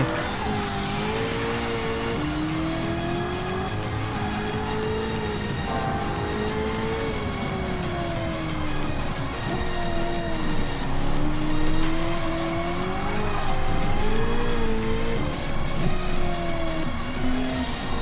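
Race cars, one of them a Mitsubishi, scream past with high engine notes rising and falling through gear changes, along with squealing tires, in a loud, continuous racing din.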